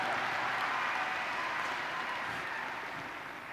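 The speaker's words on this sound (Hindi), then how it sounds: "एक बार इस बात के लिए भी तालियां बनती हैं" An audience at a Forever Living Products business presentation in India gives a steady, fairly distant round of applause that slowly fades toward the end.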